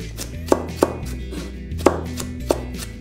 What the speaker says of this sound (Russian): Как нарезать морковь, по большому счету нет разницы. Я сделаю вот такие полушайбы.